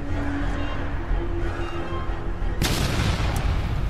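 A loud, sudden explosion booms in the video game Gears of War 2 midway through, after a stretch of rumbling in-game background noise.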